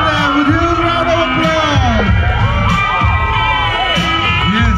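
An audience at a fashion show in Dharan cheers, whoops and shouts loudly in a dense crowd roar, with an announcer's voice carried over the noise.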